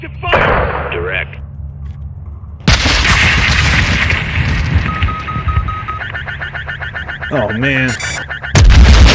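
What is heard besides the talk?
gunfire and explosions in the video game Modern Warfare 2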